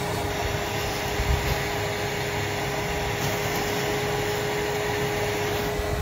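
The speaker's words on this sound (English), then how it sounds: "Cordless vac from Metabo." A Metabo cordless vacuum cleaner runs steadily while clearing small debris in a basement being waterproofed, a constant close airy roar with a thin high whine and no pauses.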